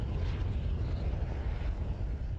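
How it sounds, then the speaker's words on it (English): Helicopters hum overhead above the Broadwater on the Gold Coast, a steady distant engine drone with broad rumbling noise, sustained and moderately faint with no talking. "helicopters hummed overhead"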